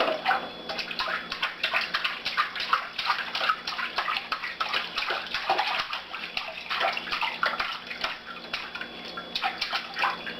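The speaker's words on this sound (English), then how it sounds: "Splash, splash, splash." A child splashes in bath water with repeated close, irregular sloshing and slapping splashes that run continuously and fairly loudly, with no one speaking.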